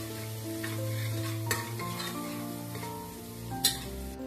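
Tomatoes with a pinch of turmeric and salt being stirred in a hot pan, giving a steady soft sizzle with a few sharp scrapes of the spoon against the pan.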